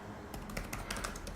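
Typing on an HP EliteBook 830 G5 laptop keyboard: a quick, faint run of light key clicks in an irregular rhythm, close up and without speech.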